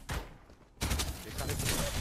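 Gunfire crackles in the Farlight 84 battle game, a sharp burst after a quieter opening that continues as dense, sustained shooting over the remaining second, close and loud.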